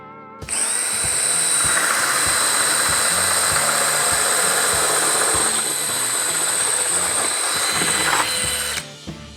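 A DeWALT cordless drill whirs loudly and steadily for several seconds with a rough, grinding undertone, then winds down and stops as its anti-kick feature engages.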